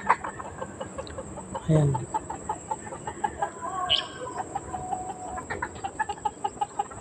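Chickens cluck in a new backyard coop: steady, rhythmic clucks at close range with occasional louder calls, and a short spoken word partway through.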